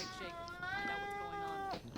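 A house cat meows close by, a drawn-out tonal call that rises and falls over a second or so, while a character's voice from a shooter game plays at the same time.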